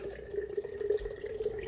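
Filtered water from a Berkey filter runs into a container while a switchel drink is being made: a steady, close trickling pour that lasts the whole short stretch, with no talking.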